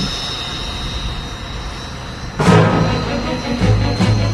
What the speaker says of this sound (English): The MiG-9 jet fighter test sample took off the strip of the Flight Research Institute